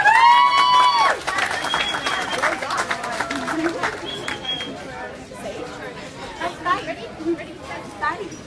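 A community club audience at a cherry and charity queen crowning claps and cheers, and the crowd noise fades into chatter and scattered voices, with a loud voice at the start.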